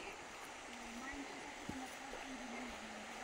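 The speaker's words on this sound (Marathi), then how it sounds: "आणि मैयाचं खळखळाट आणि खळखळ रूप खूप छान वाटतंय" The Narmada river gurgles softly along its bank at sunset: a steady, low rushing murmur of flowing water with a faint hum over it and no clear speech.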